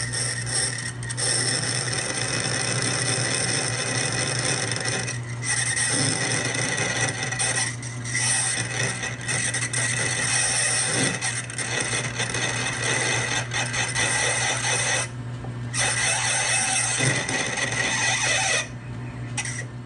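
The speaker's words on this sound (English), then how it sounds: "I have a smaller drill that I'm going to give a shot." Continuous grinding, whirring of a smaller drill working against metal guide shafts, close and loud, running steadily with a few brief pauses and no talking.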